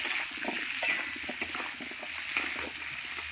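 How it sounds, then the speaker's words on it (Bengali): Potatoes frying with salt and turmeric in a pan, a soft continuous sizzle with a few sharp clinks of a utensil against the pan, no speech. "আলুটা ভালো করে লাল লাল করে ভেজে নেবো"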